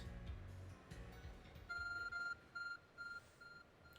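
A phone beeping as a series of four short, clear electronic tones in an even rhythm, following a stretch of low game noise.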